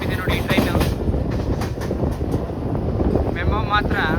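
A new MEMU passenger train runs on the line between Ballari and Hosapete, giving a steady rumbling roar with wind buffeting throughout and someone speaking over it.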